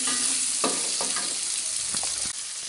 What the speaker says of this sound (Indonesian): Aduk-aduk terus sampai tomat agak layu dan tercampur sama bumbu.